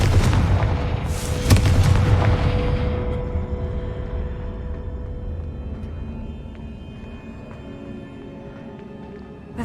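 A Confringo blasting spell in Hogwarts Legacy sets off a loud booming explosion near the start, followed by a long rumbling decay that slowly fades.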